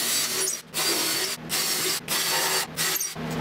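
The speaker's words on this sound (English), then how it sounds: "we're going to go ahead and drill all the holes." A power drill boring holes into the frame for the X axis rails during a greenBull CNC machine assembly, running in several loud bursts of about half a second each, separated by short pauses.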